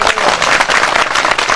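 Audience at a tribal culture gathering in Botarde claps continuously in a dense, steady burst of applause that fills the whole moment, with no voices over it.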